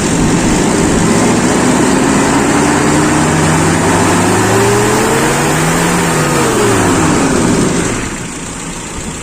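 A Toyota Kijang engine fitted with an Aisan carburetor revs loud and steady above 4000 RPM, its pitch rising and then falling, before dropping back toward idle near the end.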